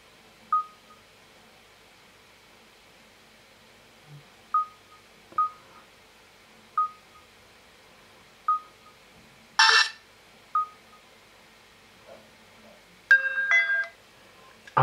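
Short ringtone and alert beeps from an older Samsung Delphi phone with a dead digitizer, several brief tones spaced a few seconds apart, then a noisy burst and a short melodic chime, heard close up with no talking.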